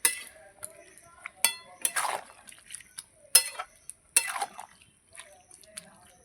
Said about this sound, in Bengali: একটু নেড়ে চেড়ে দিলাম